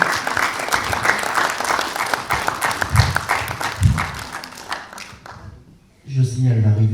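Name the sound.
audience applause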